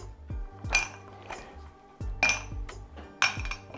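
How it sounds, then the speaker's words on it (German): Ice cubes drop into a glass for an iced dalgona caramel coffee, several sharp clinks and clatters in uneven bursts, close and fairly quiet, with short ringing tails and no talk. "für die heiße Jahreszeit schön viel Eis ins Glas"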